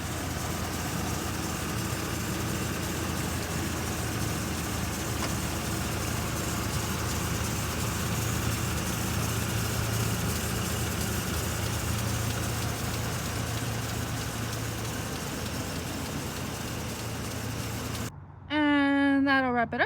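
A 2023 Chevrolet Express 4500 box truck with a 6.6 liter V8 gasoline engine idles with a steady, low, even rumble for most of the clip, followed by a short burst of voice at the very end.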